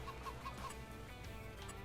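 Chickens cluck in Farming Simulator 22, with repeated short clucks over a steady farm-game background hum, moderately close and with no talk over them.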